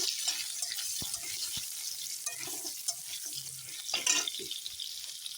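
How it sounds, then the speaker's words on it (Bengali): Potato pieces fry in hot oil in a pan for a fish curry, giving a steady close sizzle with occasional stirring and scraping knocks; no talking. "একই তেলে আমি প্রথমে আলুগুলো ভেজে নিই ভালো করে লাল লাল করে"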